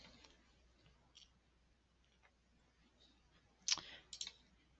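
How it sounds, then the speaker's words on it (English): A computer mouse being double-clicked, two quick, close, crisp clicks near the end after a stretch of faint, scattered ticking. "so I'm going to double click that"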